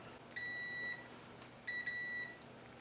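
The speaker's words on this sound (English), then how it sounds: "you hear that beep? So what that's doing is letting us know that we have continuity between the two probes." A digital multimeter emits two short electronic continuity beeps as its two test probes touch, each tone lasting about half a second with a brief gap between them, clear and close against a quiet background.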